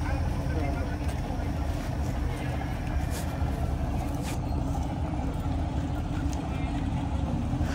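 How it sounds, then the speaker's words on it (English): Boat engine on a stalled motorboat near oyster beds, struggling to power up and failing to engage reverse, a steady loud rumbling drone with wind and water noise throughout. "they jam it in reverse a few times, and you can see old Smokey trying to power up"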